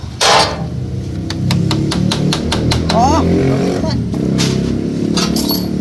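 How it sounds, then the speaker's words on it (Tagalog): A hammer strikes a stuck part again and again in a quick, even series of sharp metallic knocks, with people talking over and around the blows. "Martilyo na boy, ayun."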